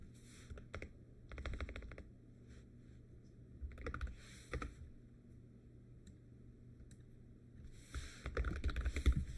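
Quiet bursts of typing on a computer keyboard, clusters of soft rapid keystrokes separated by pauses, close and alone against faint background hum.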